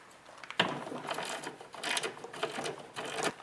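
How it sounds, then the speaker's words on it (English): Ratchet wrench loosening a 7/16 bolt on a snowblower's drive cable pulley, giving close, quiet bursts of rapid clicking in several short runs separated by brief pauses, with no talking. "Now you will need to loosen the 7/16 bolt to get the cable out from that little pulley."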